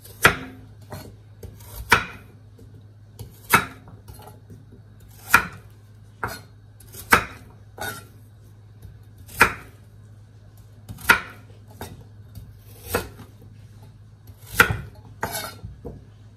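Carrots being chopped on a cutting board, sharp knife thuds landing roughly every second or two over a low steady hum, close and clear with no talk.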